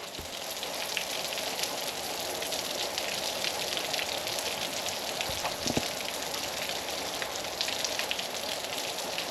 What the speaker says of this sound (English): Nothing like the rain in Arizona.